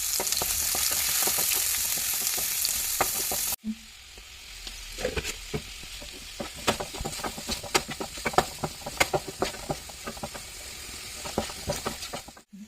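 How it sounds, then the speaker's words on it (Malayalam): Chopped onion sautés with salt in hot oil for a spiced rice dish, a loud steady sizzle that drops after a brief cut, then continues with frequent spoon scrapes and taps as it is stirred. "ഇതൊന്ന് ചൂടായി വരുമ്പോൾ അരിഞ്ഞു വെച്ച ഉള്ളി കുറച്ച് ഉപ്പും ചേർത്ത് വഴക്കിയെടുക്കാം"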